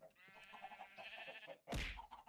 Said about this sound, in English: Why is there a sheep out here?